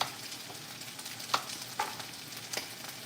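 Cambodian pork chops fry in hot oil, a continuous soft sizzle with a few distinct crackles and utensil clicks, close and fairly quiet with no talking.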